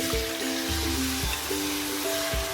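Boneless chicken pieces hitting hot ghee for a restaurant-style chicken handi, giving a steady, close hiss of frying that runs throughout, with faint scraping clinks, and no talking.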